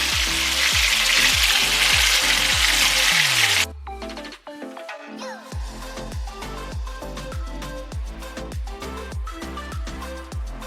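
Oxtail frying in oil on a stovetop, a loud dense sizzle at first that cuts off, then crackling oil with rhythmic clinks and knocks of pieces being moved in the pot.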